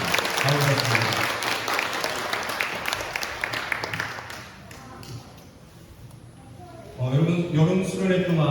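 A church congregation at a summer retreat Sunday service claps to welcome newcomers, a dense burst of applause that fades over several seconds before a voice resumes speaking.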